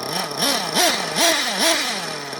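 A Rossi nitro engine on an RC truggy revs in quick repeated bursts, its high buzzing whine rising and falling about four times in a row, close and fairly loud.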